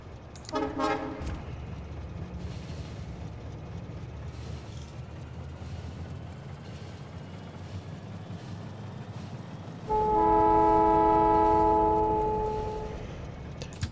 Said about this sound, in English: Well, let's take the train up and make sure it's going to be set up properly.